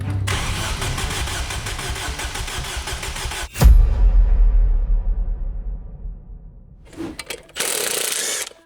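A Ford Fiesta with a swapped engine cranks and catches, roaring loud and close, then settles and fades toward idle before revving again near the end.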